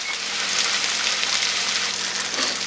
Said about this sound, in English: Let's let this shit fucking sizzle